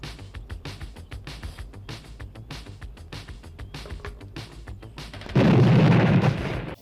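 A burst of gunfire in a Samurai Cop film scene: rapid, repeated sharp shots in a steady rattling rhythm, loud and close, ending with a heavier booming blast.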